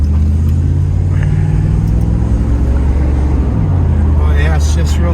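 A 1991 Pontiac Firebird Formula running and driving, its engine a steady low droning hum from inside the cabin that swells briefly near the end, with talk over it.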